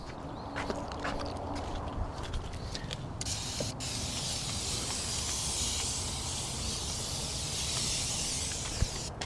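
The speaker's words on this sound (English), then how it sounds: "That nice continuous spray." A steady hissing spray of rinseless car wash from a continuous-spray bottle runs for several seconds, with some scattered clicks and creaks of handling near the start.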